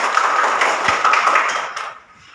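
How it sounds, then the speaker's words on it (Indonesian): A class of elementary students claps their hands together in a classroom, making a dense, loud patter of many claps for about two seconds that then trails off. "Tepuk tangan kita semua."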